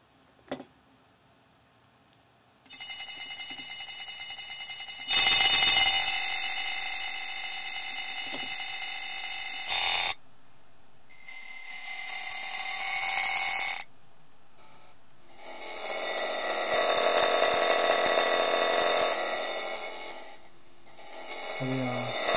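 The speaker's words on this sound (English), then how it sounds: "if I were to automate the process of reading through that sound, I would get a kind of granular sound." Granular synthesis built in Max MSP, reading through a stored sound in short repeated grains, comes in bursts of dense shimmering texture that start and stop several times after a short silent opening.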